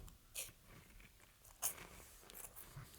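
A crunchy cheese puff snack is bitten and chewed, giving two or three faint, sharp crunches with quiet gaps between them and no talking.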